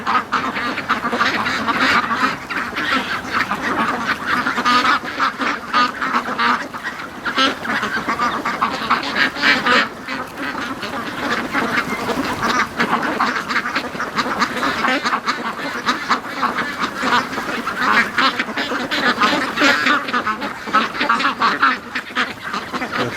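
A large flock of free range ducks quacks continuously and loudly from nearby, a dense overlapping chorus with some honking, lasting throughout.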